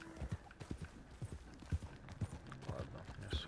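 Rhythmic clip-clop of a horse's hooves in Red Dead Redemption 2, steady trotting strikes close by with faint background ambience.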